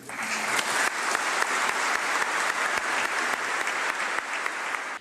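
A crowd in a church square applauds as a coffin is carried to the churchyard at a funeral, sustained dense clapping from many hands at moderate distance, steady throughout.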